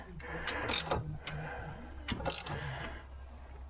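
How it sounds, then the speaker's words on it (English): A harmonic damper is pulled off an engine crankshaft with a puller, giving two bursts of ratcheting metal clicks and scrapes with sharp high squeals, close up, amid brief low voices. "we're pulling the damper off"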